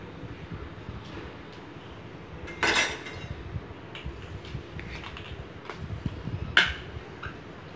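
A spoon stirs curd rice with chopped coriander leaves in a pot, making soft intermittent scraping and clinking, with two brief louder knocks against the pot, fairly quiet and without talk.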